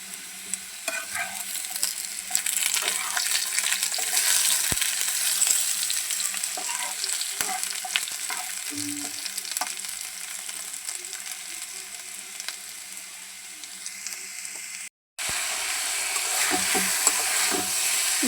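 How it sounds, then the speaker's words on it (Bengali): Steady sizzling of potatoes frying in a pan, with occasional stirring scrapes and clinks, close and continuous with a brief cut near the end. "এখন আমি আলুগুলি বাজে নিতেছি"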